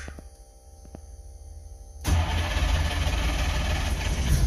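An engine that has sat for a while cranks with a few faint clicks, then abruptly catches into a loud, steady rumble that holds to the end.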